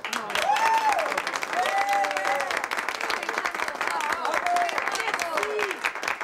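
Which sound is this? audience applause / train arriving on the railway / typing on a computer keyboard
audience applause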